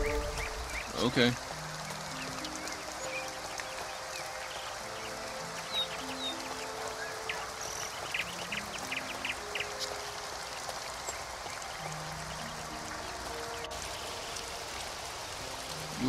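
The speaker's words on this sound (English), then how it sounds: "And rain again." Steady rain in the video game Two Worlds hisses continuously at moderate volume, with a soft synthetic musical tone drifting underneath and a brief clatter near the start.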